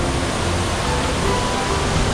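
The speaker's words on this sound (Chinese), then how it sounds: "这里有小瀑布哦， 大瀑布， 还有大瀑布哦。" Steady broadband rush of falling water at a scenic waterfall in a Chiayi forest park, loud and continuous with no talk.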